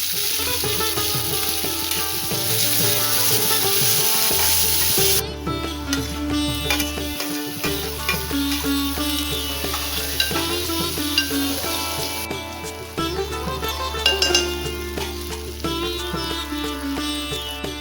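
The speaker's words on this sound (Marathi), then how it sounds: "आता आपण एक एक करून कांदो टोमॅटो आणि आलं लसूण पेस्ट टाकून घेऊया" Onion, tomato and ginger-garlic paste frying in a pan while cooking katla wild greens, with steady loud sizzling, occasional stirring scrapes and bursts of added ingredients hissing, no voices present.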